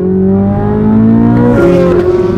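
A 2023 Corvette Z06 supercar accelerating hard, its engine revving loudly and climbing in pitch, with a brief dip near the end like a gear change before pulling up again, close and alone with no talking.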